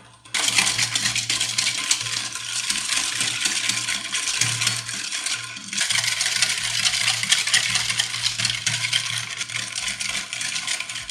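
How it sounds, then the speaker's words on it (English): Steady, busy scraping and clicking of a whisk beating molasses and sugar in a bowl, continuous and close for about eleven seconds with a brief lull midway. "I'm going to whisk this until the sugar dissolves completely"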